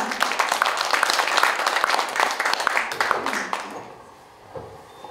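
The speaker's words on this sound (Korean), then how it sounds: "뜨거운 박수로 맞아주시겠습니다." A crowd at an arts awards ceremony applauds warmly as a speaker comes on stage, dense clapping that fades out toward the end.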